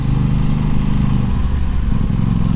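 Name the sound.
Aprilia Tuono 660 Factory motorcycle engine riding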